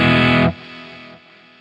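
Electric guitar played through a Fender Tone Master Pro with a tape echo effect, a loud distorted chord that cuts off sharply and leaves a fading echo tail decaying in steps, with no talking.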